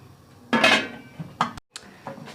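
A lid being placed over a cooking pot of mixed vegetables on a stove, a loud metallic clatter followed by a couple of lighter clinks and scrapes, close and alone with no talking.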